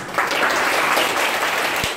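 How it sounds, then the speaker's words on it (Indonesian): An audience at a village motivational talk about success claps in a brief burst of steady, moderately loud applause lasting about two seconds. "Tepuk tangan."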